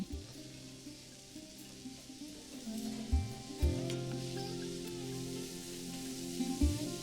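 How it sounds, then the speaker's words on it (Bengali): Tomatoes with spices cooking in a pan over a medium flame, a steady close sizzle and fry with occasional stirring scrapes and bursts, no talking. "দিয়ে দিন টমেটো তারপর ফ্লেমটা মিডিয়াম রেখে এটাকে ভালো করে কুক করে নিন"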